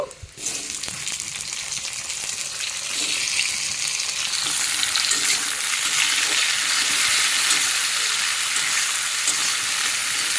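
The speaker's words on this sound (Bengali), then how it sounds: "টমেটো একটু ভেজে নেই" Onion and tomato fry in hot oil with a steady, loud sizzle that builds after the first half second and holds as an even crackling hiss throughout, with no talking.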